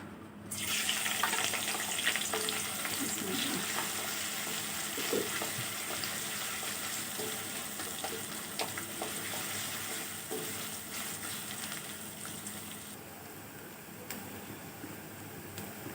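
Steady, crackling sizzle of onions frying in hot oil for a black pepper chicken dish, a dense hiss that starts abruptly and continues throughout with occasional pops, close and fairly quiet.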